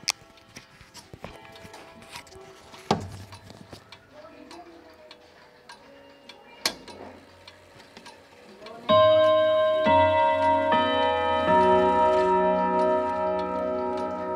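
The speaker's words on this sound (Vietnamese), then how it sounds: "thể hiện ngay bằng cái tiếng chuông của chiếc đồng hồ này" An Odo 36/8/8 wall clock with a brass movement starts with a few sparse ticks and clicks, then breaks into a loud, ringing multi-note chime melody that sustains and rings on to the end.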